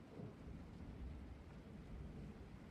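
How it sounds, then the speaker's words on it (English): Thunder weather effect in a video game: a faint, steady low rumble with a soft rain-like wash, continuous and distant throughout with no sharp cracks. "So, you can probably hear the thunder."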